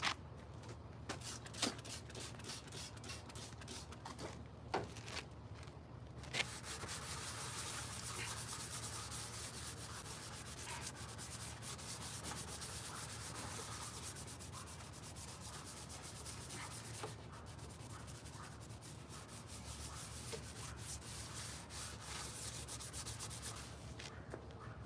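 Steady hand sanding on a jeep, a continuous scratchy rubbing with a few sharp taps early on, close and fairly quiet throughout.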